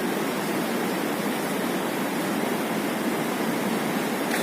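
Floodwater of the Cauvery river in Erode district rushes with a steady, dense roar, loud and close and unbroken throughout, with no voices.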